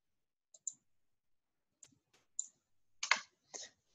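Several light, sharp computer mouse clicks land in small irregular clusters against near silence, close and quiet, with no voices.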